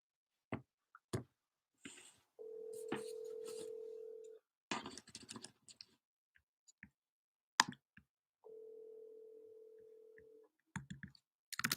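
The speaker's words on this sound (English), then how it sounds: "Giving Miss Lewis a call" A steady telephone dial tone sounds twice during a call, each time lasting about two seconds, with keypad clicks and brief handling noises before and between them.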